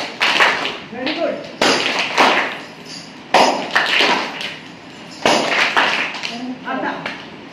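Children clap in time with quick strikes on a daf frame drum during a storytelling and skill-building class. The beats come in several bright bunches, close by, with speech running between the groups of hits.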